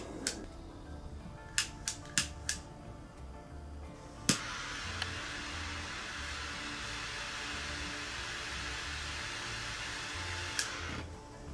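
A Rocky Patel Sixty Toro box-press cigar being lit: a few sharp lighter clicks, then a steady soft torch-like hiss that sustains for several seconds before a final click, close and fairly quiet.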